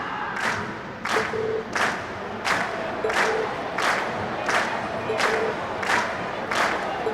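A game crowd in Trails of Cold Steel cheers and claps at the end of a class performance, swelling in regular bursts about once a second over a steady murmur of voices.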